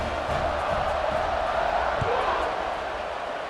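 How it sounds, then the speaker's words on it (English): Broad crowd roar at a college football stadium after a score, a steady buzzing wash of many voices throughout, with a commentator talking over it. "this crowd is buzzing after that last score"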